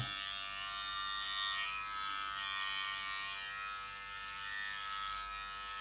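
Philips Body Groomer 3000 electric trimmer shaving underarm hair, a continuous close high-pitched buzz running steadily throughout with no speech.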